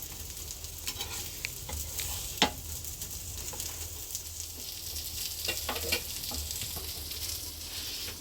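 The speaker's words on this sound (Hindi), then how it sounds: "यहाँ पर मामा ने पराठे ना डालना शुरू कर दिया है" Parathas frying on a home pan during a Ramadan sehri meal, with a steady soft sizzle, occasional light clinks and stirring scrapes, and one sharper tap partway through, fairly quiet and without talk.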